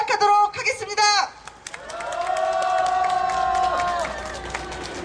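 A crowd at a Korean labor union rally shouts in unison, one long sustained cheer that swells after a voice speaks over a microphone at the start.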